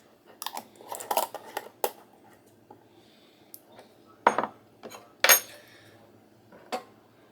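A lid is set onto a slow cooker pot in a home kitchen, giving a few short, close clinks and clatters of ceramic or glass, with quieter handling sounds between them and no talking.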